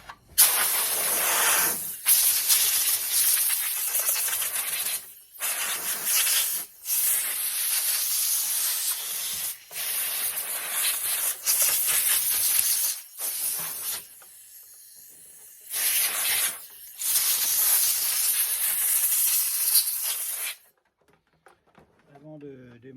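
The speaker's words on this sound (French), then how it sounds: "Je vais prendre mon compresseur." An air compressor nozzle blasts dust out of a dirty PS4 console in loud, sustained hissing bursts, cutting off and restarting repeatedly before falling quiet.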